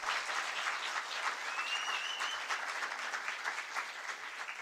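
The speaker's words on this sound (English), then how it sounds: "can we please give a nice warm round of applause for Dog" An audience at a National Science Week STEM expo competition applauds in a steady wash of many hands clapping, fairly distant and even, with a faint whistle rising briefly partway through.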